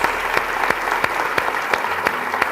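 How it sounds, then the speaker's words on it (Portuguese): A church congregation claps in unison, with sharp regular beats standing out over a steady bed of crowd noise for a couple of seconds. "Vamos aplaudir o Senhor."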